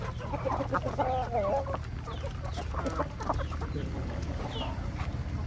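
Country chickens cluck close by in a busy, overlapping chatter, with several hens calling at once over steady background noise.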